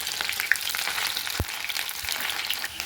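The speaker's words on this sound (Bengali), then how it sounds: "ফোড়নে পেঁয়াজ দিয়ে দিচ্ছি" Onions dropped into hot mustard oil with tempering spices fry in a pan, giving a steady, close, bright sizzle with a brief low knock partway through.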